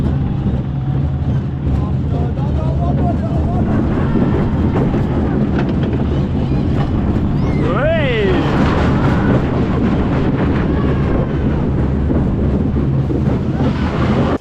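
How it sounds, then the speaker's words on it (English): Heavy rain and strong wind buffet the microphone outdoors at a seaside amusement park, a loud, constant roaring wash with a brief whistling tone partway through. "it is now throwing it down and the wind's making it even worse as well"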